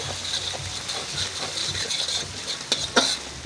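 Egg being stirred into rice in a hot pan for dhaba-style egg rice, with a steady scraping, hissing sizzle and sharp metallic spatula clacks near the end.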